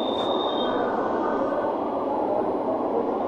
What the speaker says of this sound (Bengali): এই হচ্ছে মেট্রো আমাদের